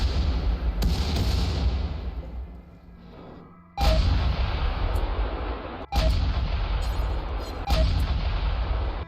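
Artillery shells fire in RimWorld volleys against mechanoid centipedes, heavy booming shots at intervals with several sharp reports, each followed by long rumbling tails under steady background noise.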